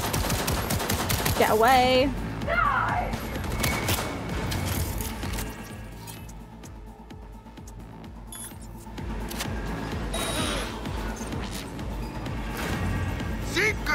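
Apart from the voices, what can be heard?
gunfire shooting at the player in the video game Cyberpunk 2077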